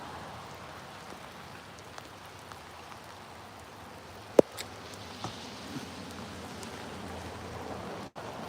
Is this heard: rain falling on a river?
yes